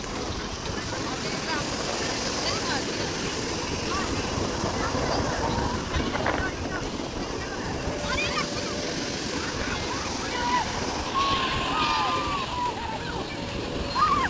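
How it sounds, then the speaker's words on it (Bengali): Sea waves wash up onto the shore at Puri beach, a steady broad rush of surf that runs the whole time, with people talking over it. "জলের স্রোত খুব বেশি একদম পাড়ে চলে আসছে"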